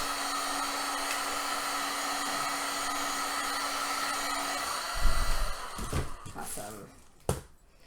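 A heat gun warming Worbla thermoplastic for a cosplay breastplate; a steady, close blowing roar for about five seconds, then handling thumps and a sharp knock as it stops.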